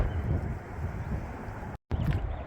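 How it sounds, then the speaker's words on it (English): Strong wind gusts blow steadily through a park during a dust storm warning, a loud continuous roar buffeting the microphone, broken by a brief cutout. "The wind going by very eerily."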